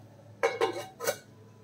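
A metal lid set onto a pot of ash gourd thoran in a home kitchen, giving two quick clinks followed by a third after a short pause, close and clear with no talking.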